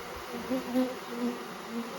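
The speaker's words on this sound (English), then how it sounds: "I smoked these bees to try to get them off the lid, and now they're all just fanning" Honeybees fan at a hive after being smoked off the lid, a steady close insect buzz with a low hum that swells and fades gently.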